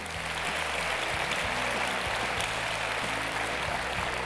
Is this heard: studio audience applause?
yes